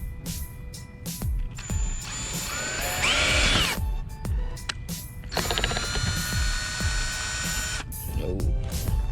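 A power drill bores holes to mount a front lip on a Toyota GR86, with close, loud whirring bursts that rise and stop in two main runs, separated by short pauses and clicking handling noises.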